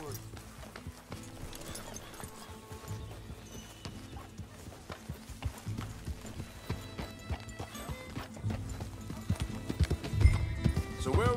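Horse in Red Dead Redemption 2, steady clip-clop of hooves with a whinny, sounding moderately close under ongoing game music and ambience, the hoofbeats growing busier toward the end.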